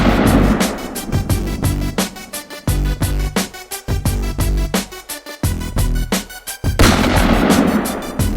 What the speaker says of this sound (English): we shot about 65 rounds with no issues to feed or eject